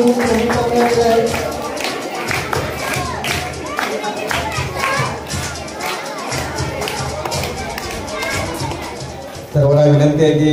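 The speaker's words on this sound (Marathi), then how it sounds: "सर्वांनी टाळ्या वाजवल्यावर जोरदार टाळ्यांनी आपण आभार व्यक्त करायचं" Applause from a gathered school audience at a Marathi village school event in Kotapur, a dense sustained clatter of many hands clapping, loud and close, running through nearly the whole stretch with crowd noise mixed in.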